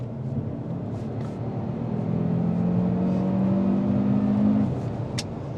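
Cupra Formentor VZ5 accelerating hard on a test drive near Barcelona, its engine note rising steadily in pitch and swelling in loudness over several seconds, close and continuous, with no talk over it.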